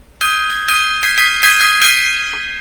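A struck gong rings out loud and bright, a sharp attack followed by a sustained shimmering tone with repeated pulsing swells that slowly fade over a couple of seconds.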